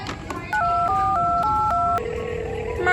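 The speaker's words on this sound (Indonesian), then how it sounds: "Telepon mami aja deh." Telephone dialing tones beep in a quick run of short, bright keypad presses, then a longer steady tone follows, close and clear with a faint voice underneath.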